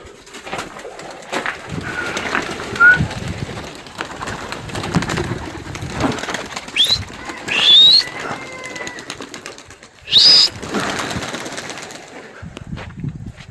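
Pigeons coo softly nearby, with a few sudden bursts of wings flapping as birds take off or land.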